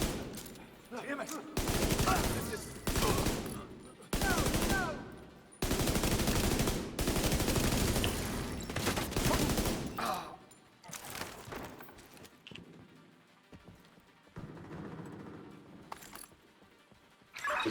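Bursts of video game gunfire, including rapid machine-gun fusillades, come in loud blocks separated by brief gaps, with quieter game sounds and faint talk between them.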